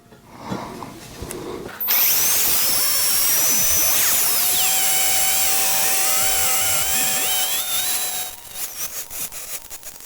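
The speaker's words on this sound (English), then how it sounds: "let's drill our hole." A power drill bores a hole through a metal fishtail exhaust tip. It rises into a loud, steady, high-pitched grinding whine that holds for about six seconds and then winds down, with brief handling noise before and after.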